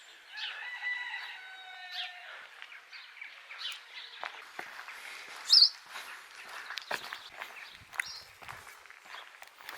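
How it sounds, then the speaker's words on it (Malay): A rooster crows once near the start, followed by scattered chicken clucks and bird chirps in a quiet outdoor setting in Brittany, France, with faint footsteps. "korang akan dengar just burung dengan ayam je."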